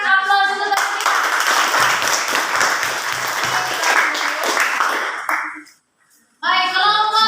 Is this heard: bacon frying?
no